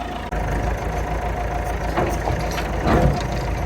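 A tractor engine idles steadily nearby, a continuous low rumble with a slight swell in loudness near the end and no talking over it.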